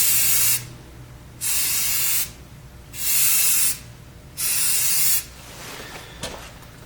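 Tan coating sprayed from an aerosol can onto a black BlackHawk Serpa holster in four steady hissing bursts of about a second each, separated by short pauses, with a fainter final burst, close and loud.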